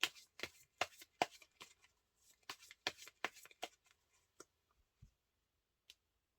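Tarot cards being shuffled for a reading, with quick close riffling bursts followed by a few softer taps and clicks as the deck settles, quiet and without speech.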